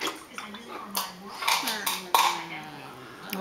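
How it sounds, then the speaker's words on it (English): A paintbrush is swished and tapped in a water cup during a child's watercolor painting session, with several short splashes and clinks under intermittent conversation. "Now rinse it out."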